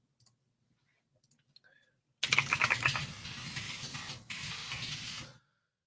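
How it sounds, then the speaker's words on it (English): Rapid typing on a computer keyboard starts suddenly and runs for about three seconds, a dense stream of close, crisp key clicks with a brief pause near the end. "I'll just type it in."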